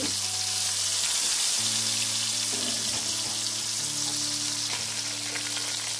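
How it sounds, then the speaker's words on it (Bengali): Oil sizzles and crackles steadily as pangasius fish fries in a pan over medium heat, a constant hiss with a low hum running underneath. "মাছ ভাজা হয়ে গেছে, এখন মাছগুলো উঠিয়ে নিব"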